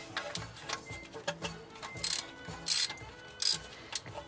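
A small 10 mm bolt being loosened with a ratchet wrench on a car's brake line bracket during suspension work on a VW MK7 GTI/Jetta, giving close, quiet irregular ratcheting clicks with a few brief sharper metallic bursts.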